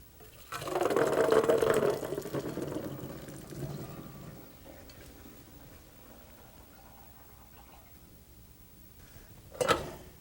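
Water from cooked chickpeas pours out into a kitchen sink as they drain, a loud splashing rush for a second or two that tapers to a faint trickle, then a short knock near the end, with no talk.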